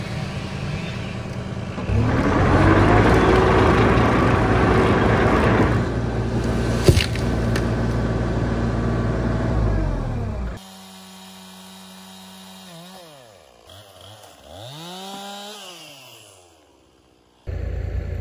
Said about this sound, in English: I'm gonna be driving this skid steer and I'm gonna go ahead and pull this tree over